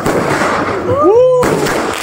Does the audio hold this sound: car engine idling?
no